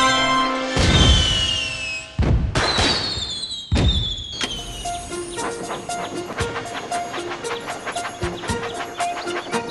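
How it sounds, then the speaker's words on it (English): Squealing pigs that have wandered off a farm in the Thomas & Friends: Magical Tracks game, bright high squeals at the start followed by clopping clicks and short tonal game blips and jingles throughout. "Oh no! Some pigs have wandered off from the farm."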